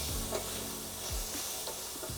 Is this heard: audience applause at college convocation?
no